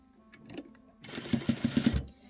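A sewing machine stitches a short burst along a seam where two lines of stitching meet, its needle thumping in a quick run of about six close, even beats after a brief quiet handling noise.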